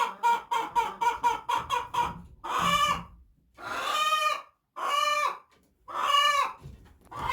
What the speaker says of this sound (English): she's always got a horrible noise like that. It's not your normal hen sound.